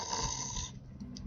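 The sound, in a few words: snoring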